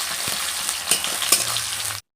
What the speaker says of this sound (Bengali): পেঁয়াজ কুচিকে খুব ভালো করে আমি ভাজা করে নেব